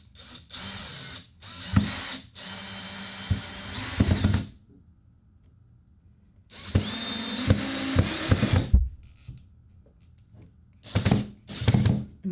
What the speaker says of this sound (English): we're going to drill 50 holes to hold the dowel